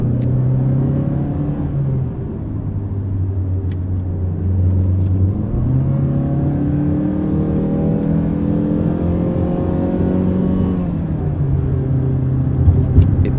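The 2.0L engine of a 2021 Mazda CX-5 front-wheel-drive SUV, pre-facelift, drones loud and steady in sport mode as it holds each gear, its pitch climbing slowly through one long rev and then dropping at the shift.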